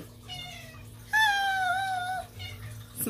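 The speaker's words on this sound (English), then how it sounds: "It's my kitty." A pet cat meows in a long, drawn-out cry at fairly close range, with a fainter meow before it and a short one at the end, over a quiet room background.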